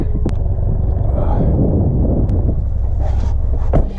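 A modified Subaru WRX engine, a loud, deep, continuous rumble filling the whole moment with wind buffeting over it, close and heavy throughout.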